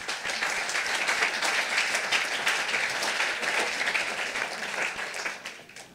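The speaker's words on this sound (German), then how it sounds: "Einen Riesenapplaus." An audience at a science slam applauds, a dense, sustained wash of many hands clapping at once that stays full for several seconds before tapering off at the end.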